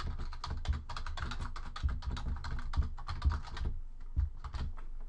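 Fingers type steadily on a computer keyboard, a close, continuous run of quick key clicks with no voices.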